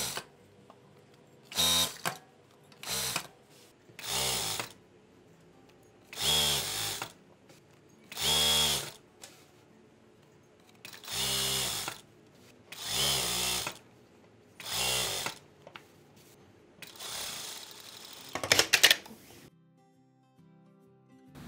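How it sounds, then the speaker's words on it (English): A sewing machine stitches the side of a patchwork stole made from scrap fabric. Close, loud mechanical whirring runs in about nine short bursts with quiet gaps between them, and there is no talking. "Now I'm sewing the other side."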